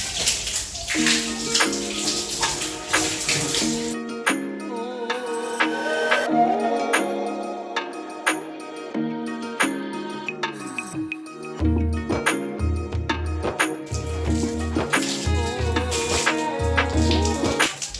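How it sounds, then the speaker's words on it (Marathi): Water splashed and thrown across floor tiles while washing them down, splashing and clinking sounds running under steady background music. "नंतर मग असं पाणी वगैरे मारून धुवून घेतलं"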